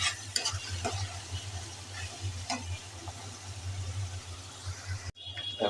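Biryani masala and roast spices stirred as they fry in a pot, the spoon scraping in repeated strokes over a constant crackling sizzle, with a low steady hum underneath and a brief drop near the end.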